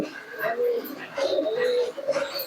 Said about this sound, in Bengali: এই একটা রামপুরি কবুতর